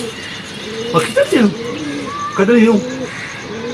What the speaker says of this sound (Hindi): ये हमारा रेसर कबूतर है।